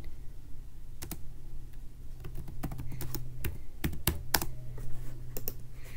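Computer keyboard typing while entering a question in Google Forms, scattered sharp key clicks in short irregular bursts over a quiet background hum, close and fairly light.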